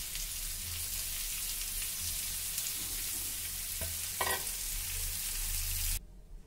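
Potatoes with green chillies and garam masala fry and sizzle steadily in a pan, with a couple of brief scrapes of stirring, all alone without talk before a sudden drop near the end.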